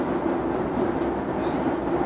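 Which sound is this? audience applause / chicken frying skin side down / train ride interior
train ride interior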